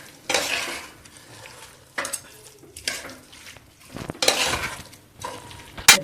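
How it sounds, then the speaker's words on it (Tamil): A spoon stirring and scraping lentils sautéing in a pan, in four or five distinct bursts of scraping and light metal clinks, with a faint sizzle in the pauses, close up, with no voices. "போட்டு எல்லாம் சேர வதக்கிக்கலாம்."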